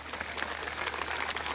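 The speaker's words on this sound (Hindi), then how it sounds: "जोरदार ताली बजा करके आप स्वागत करिए।" A crowd at a village gathering bursts into loud, sustained applause, dense clapping that holds steady throughout with no pauses.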